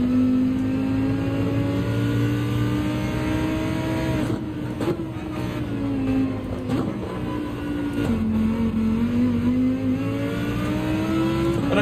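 A Lamborghini race car engine in Gran Turismo 7 on the Road Atlanta circuit drones loudly and steadily throughout, its pitch rising and dipping with throttle and gear changes, with brief shift blips along the way.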